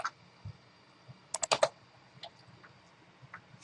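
Keys on a computer keyboard clack in short bursts as a test sales agent entry is typed, with a quick cluster of presses in the middle and scattered single taps around it, close and clear with no talking.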